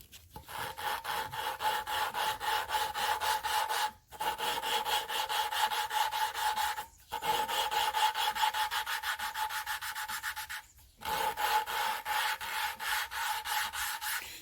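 A new valve being lapped into the cylinder head of a 2009 Honda Fit with grinding grit, heard as a rapid back-and-forth gritty rubbing in three long runs separated by brief pauses, close and steady.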